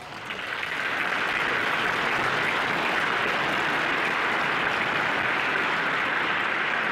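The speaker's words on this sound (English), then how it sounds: "So again, give yourself a round of applause" Audience applause at a corporate gala dinner, swelling quickly in the first second into a steady, dense roar of clapping from a large room that holds evenly to the end.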